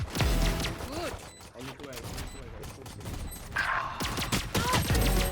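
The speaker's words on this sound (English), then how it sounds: "pay attention to all the shooting sounds my turret is making from the back" A Killjoy turret in Valorant fires from behind in rapid bursts under heavier gunfire and game effects. The shots come as a dense, fairly loud clatter that continues throughout.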